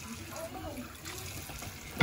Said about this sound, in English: so now you're gonna add water